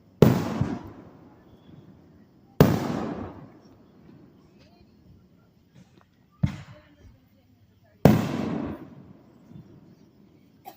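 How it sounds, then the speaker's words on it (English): Fireworks bursting at a July 3rd show on a hot evening: four sharp, loud booms spaced a few seconds apart, each trailing off into a rumbling decay, with quieter crackles between them. "And the fireworks aren't helping."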